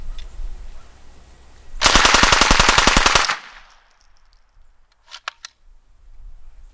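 Beretta 38A submachine gun firing 9mm rounds in one rapid, loud burst of about a dozen shots lasting roughly a second and a half, followed by faint clinks of falling brass.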